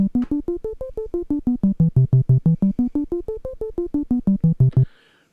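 Donner B1 analog bass synthesizer running a step sequence, with about two dozen quick, punchy bass notes in a steady rhythm that rise and fall in a looping melodic pattern, loud and alone, stopping abruptly with a short noisy tail.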